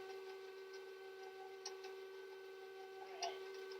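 A very noisy electric mixer whirs steadily on its stir setting through dairy-free fudgy brownie batter, a constant motor hum with faint ticking and a couple of soft knocks, no talk.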